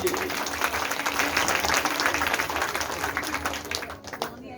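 Devotees at a Shrimad Bhagavat katha break into hearty, sustained clapping, a thick continuous patter that holds steady before thinning out in the final moments.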